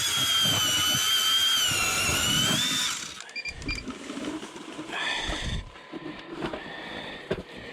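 A loud, steady whining ice auger grinds through lake ice for three seconds, then stops, followed by scraping, knocking and rustling handling sounds inside an ice fishing shelter.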